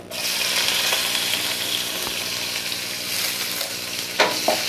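Chopped onions with whole cumin and panch phoron sizzle loudly in hot oil, a steady close frying hiss with occasional stirring clatter near the end, no voices.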